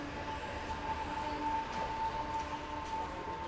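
A Mumbai local train rumbles at a station at moderate distance, with a low steady drone and a faint sustained tonal whine over it.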